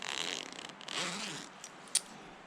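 A construction-grade heavy-duty zipper on a Eureka Northern Breeze tent rasps open in one drawn pull, quiet and close, ending with a small click.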